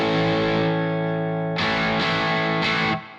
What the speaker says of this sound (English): So if I put the fuzz on, now it's not a bad sound at all, it's just quite raspy in the top end for me.